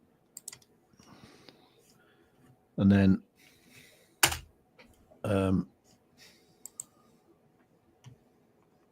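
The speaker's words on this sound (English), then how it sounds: "so I can hear a lot of clicking." Sparse, light mouse or keyboard clicks from someone working at a computer tick through a quiet room, scattered and close, interrupted by a few short spoken words.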